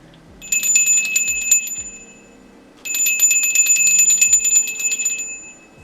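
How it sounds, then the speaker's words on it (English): A bright bell rings in two long sustained bursts with shimmering repeated strikes, a pause of near quiet between them; no talking. "I'm going to ring the bell now."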